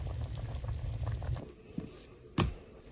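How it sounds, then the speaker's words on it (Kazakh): Meat stew with tomato, pepper and carrot boiling strongly in a pot, a dense steady bubbling that drops off midway, then a few clinks and a sharp knock near the end. "Күшті болып қайнап жатыр."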